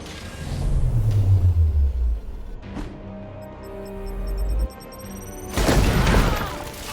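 Grenade explosions in an action video game, a few deep booming blasts with rumbling tails and debris crashes, loud and close, spread across the moment with no talking.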